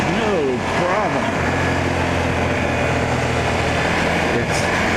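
A Suzuki SV650 motorcycle rides along a road with a steady, close engine and wind roar. A pitch sweep near the start fades into constant rumble.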